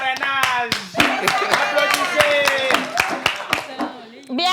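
An audience claps at a Christmas Eve show, with a series of sharp, distinct hand claps ringing out over a busy mix of voices and tonal sound.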